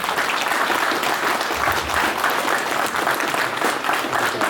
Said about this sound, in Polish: proszę o brawa na Burki